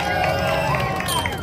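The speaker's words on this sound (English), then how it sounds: "Let's give Sonny a cheer, everybody!" A crowd cheers at the Transformers meet-and-greet at Universal Studios Hollywood, California, a brief burst of mixed voices and whoops close by.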